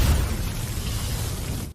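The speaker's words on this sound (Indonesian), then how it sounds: "ia pun segera melepaskan ledakan energi dari teknik gerbang ajaibnya agar bisa segera mengakhiri pertempuran" Energy blast explosion from an animated martial arts series: a dense, loud, sustained roar with heavy low rumble that holds steady for under two seconds before cutting off abruptly.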